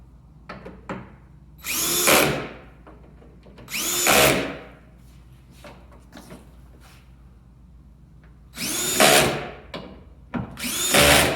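A power tool tightens bolts on a Jeep Wrangler TJ tailgate in four short whirring bursts separated by quiet pauses, with faint clicks and handling noises in between.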